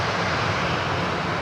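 A Dash 8 turboprop airliner at Brisbane Airport roars in a steady broadband wash, distant but continuous, with no voices over the noise.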